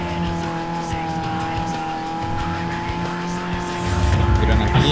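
A race car in Need for Speed Most Wanted drives with a steady high engine drone and tire noise, growing slightly rougher near the end, while someone talks over it.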